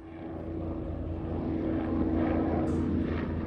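Surveillance helicopters pass overhead as a steady, droning rotor and engine roar that slowly grows louder across the clip, with no talking.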